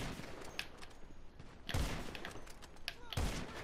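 Gunfire in GTA 5 during a close-range fight, with two loud broadband shot bursts standing out over a busy game-sound bed and a few smaller cracks between them.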